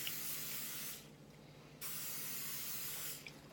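Cooking spray hisses onto non-stick baking pans in two steady bursts of about a second each, close and fairly loud, with a brief quiet gap between and a short tail at the end.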